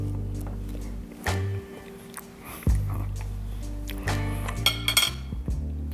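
Glasses clinking in a toast at a barbecue pot roast meal, a few sharp close clinks scattered among clattering dishes and cutlery.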